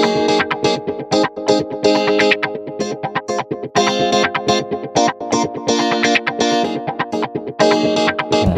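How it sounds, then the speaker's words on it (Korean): A wah-effected electric guitar plays choppy muted ghost-note strokes, layered with a second guitar in a pop track, making a dense, rhythmic, effects-heavy texture of quick repeated scratches. "기타에 이제 와우라는 이펙트를 걸어놓고 이렇게 헛손질 고스 노트를 착착착착 이렇게 치는 소리거든요"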